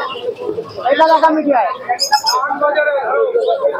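Pigeons coo in short, throaty bursts at a crowded pigeon market in Murshidabad, close by and mixed under a voice talking over them.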